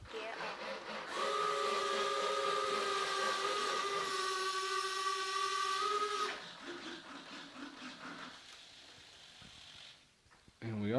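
Retractable landing gear retracting on an RC P-40 foam parkflyer model plane, a steady whining electric servo motor hum lasting about five seconds, then a lower, weaker whir and a click, close, with a brief voice afterward.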